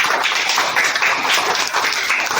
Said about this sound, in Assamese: টিম এৰ কাৰণে সকলোৱে হাত চাপৰি মাৰা